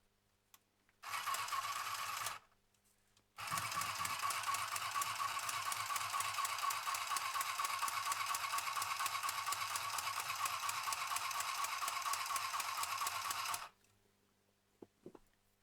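A mini craft sewing machine stitches through paper and card with a fast, even mechanical whir, first in a short burst, then after a pause in one long continuous run; quiet and close, with no voices.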